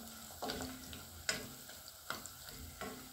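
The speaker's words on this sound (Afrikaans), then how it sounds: "So kom ons braai die ei net so klein bietjie heel eerste." An egg fries in a pan for pap and cabbage, giving a soft continuous sizzle. Several sharper clicks and scrapes of stirring or utensil contact come at irregular intervals.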